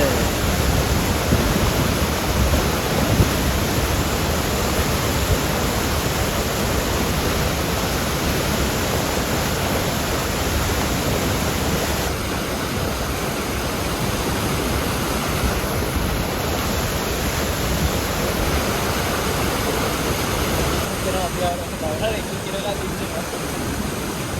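Aberdeen Falls in Sri Lanka thunders in heavy rain, a dense, constant roar of falling water that stays loud and unbroken throughout, with voices barely audible beneath it.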